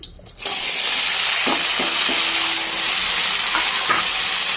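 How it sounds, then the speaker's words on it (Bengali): Cabbage and small shrimp hit hot oil in a wok, setting off a loud, steady sizzle that starts abruptly and holds close and continuous, with a few soft knocks of stirring underneath. "এটাকে আমি সুন্দর করে ভেজে নেব"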